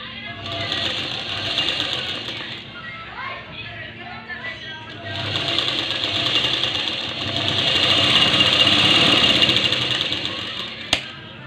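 A sewing machine stitches a piping strip onto a garment neckline, running in steady whirring bursts that pause briefly and then resume louder, with a short sharp click near the end.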